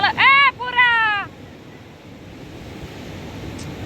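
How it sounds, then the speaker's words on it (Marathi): Rough sea surf pounds the shore at Ganpatipule during rain, a steady broad wash of waves and rainfall heard at moderate level after a brief voice at the start. "अगा किती इतकं भयानक भयानक भयानक पाणी चालू आहे."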